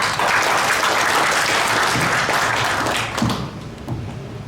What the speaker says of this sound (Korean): 김영호 교수님께서도 감사의 박수를 보내주시기 바랍니다